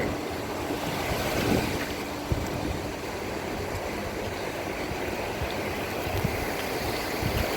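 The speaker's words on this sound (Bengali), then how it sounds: "সমুদ্রের উত্তালতা। উত্তাল বলা যায় না, হালকা সমুদ্র। দীঘা সমুদ্র এরকমই হয়।" Gentle sea waves washing in at Digha beach, a steady broad wash of surf with no break, heard alone with no voices.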